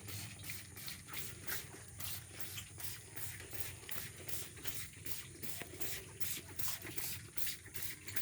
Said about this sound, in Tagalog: Okay, manatag spray, Choy.